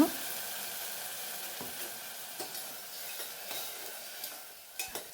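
A prepared spice paste for fenugreek (methi) pulao sizzles steadily in a hot pan, with occasional light clinks of a stirring utensil against the pan.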